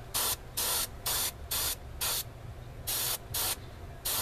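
An airbrush sprays acrylic primer onto a plastic model kit in eight or nine short, sharp hissing bursts of about a quarter second each, evenly spaced with a brief gap partway through, close by over a faint background hum.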